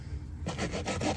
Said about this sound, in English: So I'm gonna scrape an area